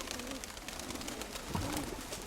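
Close pigeon cooing in a steady, soft murmur, a low throaty burble that swells slightly near the end of a brief moment.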